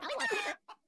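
Cartoon chicken in the mobile game Kick the Buddy gives a short burst of clucking, then one brief faint cluck after a pause.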